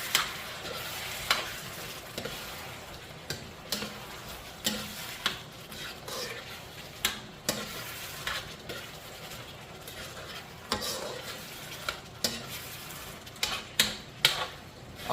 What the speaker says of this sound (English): Always continuously stirring, making sure that nothing is sticking.